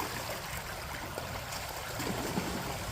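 Water flows steadily through a gold prospecting sluice box, a soft, continuous rushing and trickling wash heard fairly faintly at a constant level with no talking.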